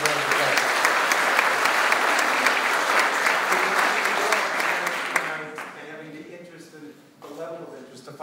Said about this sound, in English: Yes, give a round of applause.